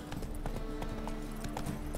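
Steady clip-clop of Roach the horse's hooves being ridden in The Witcher 3: Wild Hunt, a quick regular rhythm of close hoof strikes over a low, constant background of game ambience and music.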